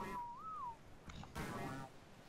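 A short rising-and-falling whistle command sounds in the video game ARK, clear but brief, followed by soft clicks and game noise.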